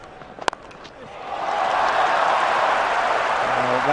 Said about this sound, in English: Well, that will get the biggest cheer of the morning.